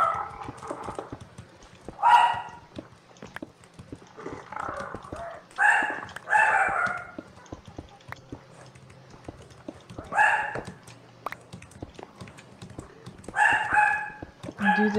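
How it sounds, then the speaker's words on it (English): A dog barking in the background indoors, short bursts of barks coming in irregular clusters with quiet gaps between them. "Don't mind the dog in the background. The dog's going a little crazy."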